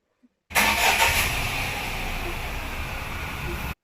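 A Tata Tiago petrol car engine cranks and catches, then settles into a steady, smooth idle that hums on without stopping.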